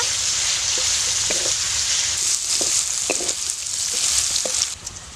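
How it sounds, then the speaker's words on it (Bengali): Cauliflower florets frying lightly in oil with turmeric and salt for a potato-cauliflower samosa filling, giving a steady close sizzle with scattered stirring clicks and no talking. "ফুলকপিটা একটু হালকাভাবে ভেজে নেব"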